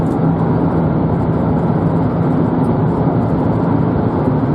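A Toyota minivan drives along a road, giving a loud, steady, unbroken drone of engine and tire noise from inside the cabin, with no talking.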